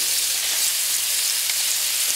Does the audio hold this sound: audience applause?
no